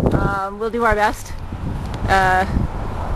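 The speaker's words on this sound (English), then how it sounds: "it's a little windy today, so you might not be able to hear too much of what I'm saying" Wind buffets a microphone on a seawall walk in Stanley Park, producing continuous rumbling gusts, while someone talks briefly in short bursts over it.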